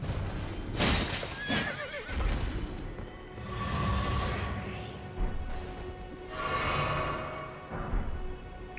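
A horse in Elden Ring lets out loud, close whinnies in several bursts, mixed with hoof clip-clops and scuffling combat noise.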